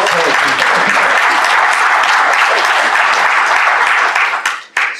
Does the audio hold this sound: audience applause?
yes